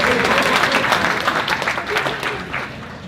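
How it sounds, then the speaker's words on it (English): An audience at a youth talk applauds itself, a dense burst of clapping that thins and fades over a few seconds, with some voices mixed in. "give yourselves a round of applause"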